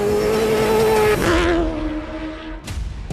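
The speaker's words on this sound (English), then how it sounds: "It's the best sounding truck out there for sure. The V8 sound is always going to be special" A V8 rally truck engine howls at high pitch as it speeds past on the Dakar Rally, the tone dropping away as it recedes, followed by a brief second burst.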